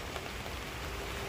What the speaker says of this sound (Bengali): আবার বৃষ্টি পড়ছে।